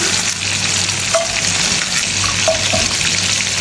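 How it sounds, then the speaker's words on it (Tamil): Whole cloves, cinnamon bark, bay leaf and cardamom pods frying together in hot oil for a fish biryani, giving a steady, close sizzle and bubbling throughout with a few light stirring clicks and no talk. "கிராம்பு பட்டை பிரிஞ்சி இலை இதெல்லாமே எடுத்துக்கிட்டேன் ஏலக்காய் இதெல்லாம் எல்லாத்தையும் மொத்தமாக இதில் வந்து சேர்த்துடலாம்"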